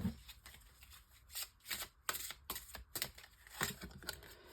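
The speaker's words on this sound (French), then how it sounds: "Ensuite, je prends une carte aussi du tarot des anges gardiens de Dorine Vertu." A guardian angel tarot deck is shuffled by hand, giving quick bursts of papery riffling and flicking in an uneven rhythm, close and fairly quiet, with no talking.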